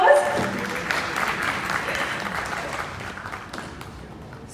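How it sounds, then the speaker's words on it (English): A crowd applauds at the India launch of the BYD brand and its Atto 3 electric car, a dense, steady wash of clapping that starts strong and slowly tapers over several seconds. "I think that calls for a round of applause."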